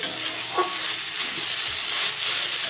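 Potatoes frying in oil in a home kitchen pan give a steady, close sizzle and hiss throughout, with a few soft stirring scrapes and no talking.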